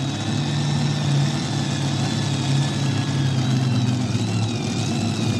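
A 2015-built pulling tractor engine roars steadily at high revs at a tractor pull, a dense continuous drone with wavering whine, loud and close, no voices.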